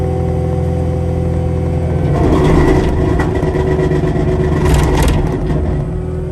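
A Caterpillar 259D skid steer running a Diamond rotary mower, its engine droning loud and close while the blade whirs up to speed, with rising roar and rattling midway.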